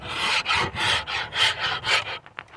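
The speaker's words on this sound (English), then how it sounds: "You rasp it nice and evenly throughout the whole limb" A wood rasp files a walnut-backed recurve bow limb in long, even strokes, about six rough rasping scrapes in a steady rhythm, close and fairly loud, ending with a couple of shorter light passes.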